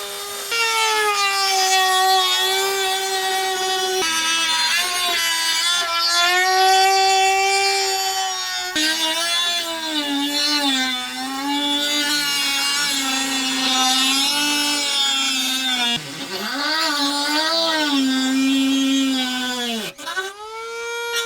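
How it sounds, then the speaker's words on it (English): An oscillating multi-tool cuts out rusted body metal on a Nissan Xterra, giving a loud, continuous high-pitched buzzing whine. The pitch rises and falls as the blade loads up, briefly breaking off near the end, with no voices. "So I'm gonna cut this out completely. Gonna try to use this multi-tool"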